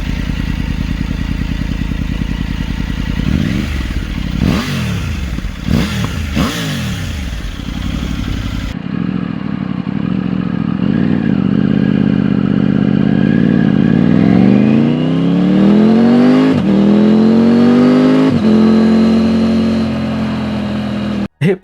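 A three-cylinder motorcycle engine with a 270-degree firing interval runs with an uneven, V-twin-like beat, first blipping through several quick revs, then climbing in a long, loud rising pull before settling.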